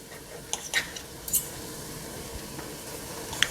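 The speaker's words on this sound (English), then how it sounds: "But now we're going to start cutting it into little bite-sized pieces." Thawed chicken being cut into bite-sized pieces in a pan, with soft sizzling under a few light knife and pan clicks near the microphone; no talking.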